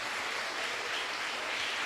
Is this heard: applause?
yes